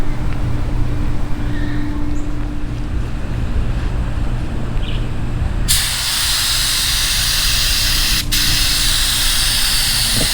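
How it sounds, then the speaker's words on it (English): Spray gun laying primer coats over sanded filler on car bodywork, a loud steady hiss that briefly fades then swells stronger and brighter midway, with a low compressor-like hum underneath. "Now we finna shoot some more prime over this"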